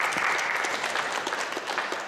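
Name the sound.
audience applause at a startup pitch event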